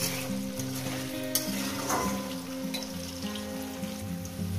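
Sliced okra fries in oil in a pan for a Bengali posto dish, giving a steady close sizzle with occasional stirring clinks and scrapes and no talk over it.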